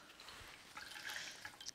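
Water drips and trickles softly as a face cloth is wetted at a sink, a few faint close splashes and droplets in a quiet room.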